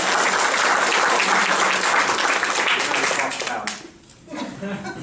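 Loud, dense applause from the audience at a Captain America: Civil War press conference, sustained for several seconds before dipping sharply and picking back up more thinly.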